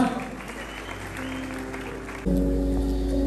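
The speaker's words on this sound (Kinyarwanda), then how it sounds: "Muha amashyi menshi cyane bajya kwicara" An audience at a Rwandan gospel concert breaks into applause, first moderate and then swelling suddenly louder and denser, with musical tones ringing beneath the clapping.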